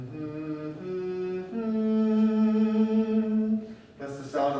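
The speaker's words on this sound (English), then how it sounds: "that's the sound of a dominant or major minor seventh." A dominant, or major-minor, seventh chord sounds on a sustained, tonal instrument, first as a few notes entering one after another and then held together as a full chord, with a brighter new attack near the end.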